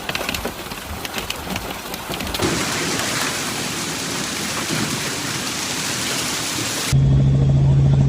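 A powerful hailstorm in Texas, with dense, steady rain and hail pelting surfaces over a constant roar, loud and close, running without pause until the sound cuts to a different, steady hum near the end.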